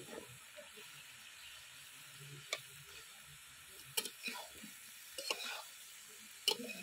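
Ridge gourd and potatoes drop into a frying spice paste and sizzle softly and steadily, with occasional scrapes and knocks of a spatula against the pan.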